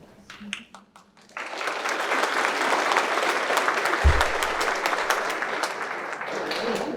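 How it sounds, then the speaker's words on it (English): Applause at a graduation ceremony breaks out after a brief moment of talk and keeps going steadily as a wash of many clapping hands, with a low thump partway through. "That applause is a very nice segue to this next thing"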